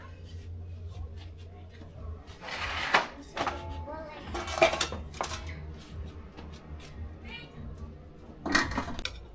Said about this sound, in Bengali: এবার ঢাকনা দিয়ে ঢেকে 10 মিনিটের জন্য দমে রাখবো।